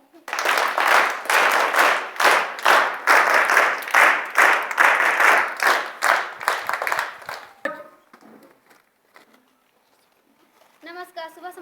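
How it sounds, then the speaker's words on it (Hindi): Students at a morning prayer assembly of a high school in Hesatu, Tandwa, Chatra, Jharkhand give loud group applause in rhythmic bursts for about seven seconds, then the clapping stops and voices follow. "सबके लिए सामूहिक ताली"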